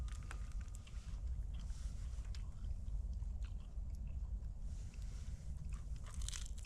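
Crunchy dried lavash, smoke-scented from an outdoor fire, being bitten and chewed close up, with steady crackly crunching over a low rumbling outdoor background.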